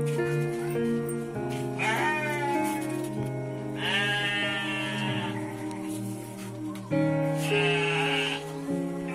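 Goats in a pen where earthquake survivors in Cianjur are sheltering bleat loudly and repeatedly, several overlapping wavering cries close by, with no speech.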